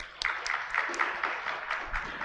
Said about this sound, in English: all you please give a big round of applause to these remarks one more time